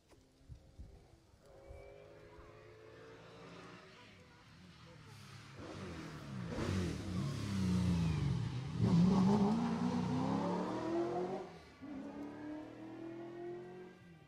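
A rally car on a closed stage at the Jersey Rally, rising from faint and distant to a loud engine roar as it nears and passes, then fading, with a commentator talking over it.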